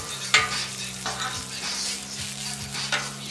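Burger meat sizzling on a Royal Gourmet 36-inch flat top grill while a spatula scrapes and flips it, steady frying hiss broken by several metallic scrapes.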